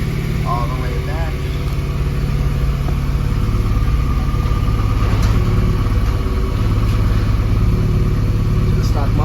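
A Honda Civic with a B18C1 engine idles steadily, a low, even rumble through a JFab header-back exhaust with stock muffler, fairly loud and close, while a person talks over it.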